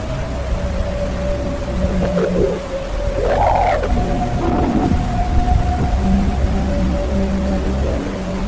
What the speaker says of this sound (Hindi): यह आवाज सूर्य से निकलने वाले शोर तूफान की खास तरह की डिप्रेसिव वेव से पैदा हो रही है।